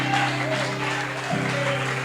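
A church congregation applauds in praise during a sermon. The broad, even clapping runs beneath sustained organ-like musical tones.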